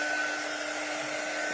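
A hair dryer dries fresh paint on classroom decor, a steady, unbroken, close-up blowing hum with a constant tone throughout.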